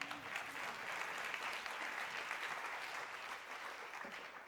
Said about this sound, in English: Applaud the pioneers.